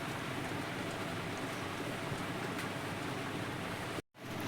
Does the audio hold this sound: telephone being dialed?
no